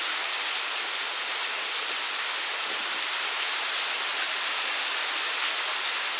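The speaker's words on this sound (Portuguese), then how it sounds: "Seja bem-vindo à nossa chuva." Heavy rain pours down in Ceará, Brazil, a dense, even hiss of falling water with gutters overflowing, loud and continuous without a break.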